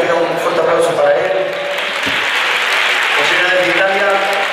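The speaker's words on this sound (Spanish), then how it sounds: "tiene un fuerte aplauso para él" Studio audience applause for the drummer of a band on a Spanish TV afternoon show, a steady loud wash of clapping sustained throughout, with some voices and musical tones mixed in.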